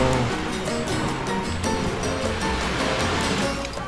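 Ocean surf breaking steadily on a beach, a continuous broad wash of waves rolling in close by, loud and unbroken throughout with no talk.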